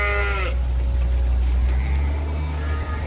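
Sheep, lambs and ewes bleating inside a barn: one clear close bleat opens, then fainter calls drift in over a steady low rumble.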